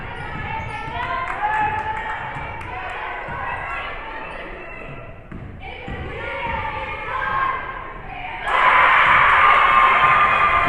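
A high school girls' state tournament basketball crowd of West Haven and New Canaan fans cheers and shouts, with sneaker squeaks and ball bounces in the arena, swelling to a loud roar near the end while a commentator talks over it.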